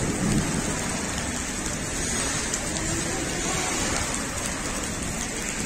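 Heavy rain pours steadily on city surfaces in a thunderstorm with lightning striking nearby, a dense hiss with low rumbling thunder underneath, loud and close throughout.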